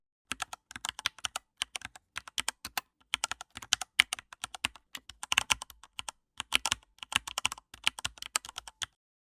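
Someone types amounts into accounting software on a computer keyboard: rapid bursts of close, crisp key clicks separated by short pauses, alone in a quiet room.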